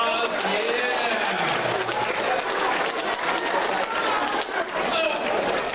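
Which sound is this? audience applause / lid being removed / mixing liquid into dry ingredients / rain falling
audience applause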